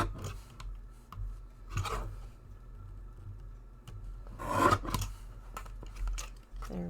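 Scissors cutting card pieces for a hand-stamped birthday card, with several separate crisp snips and rasping cuts spaced out over a few seconds, close by.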